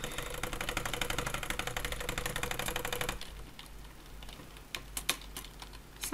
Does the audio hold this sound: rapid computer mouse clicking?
yes